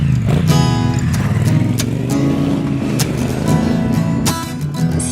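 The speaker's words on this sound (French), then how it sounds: "J'enfourche la moto et c'est parti." A motorcycle engine runs loud and close, its steady drone and exhaust growl rising slightly as the rider starts off and rides away.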